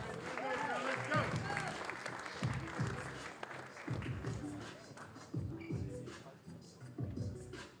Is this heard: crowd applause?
yes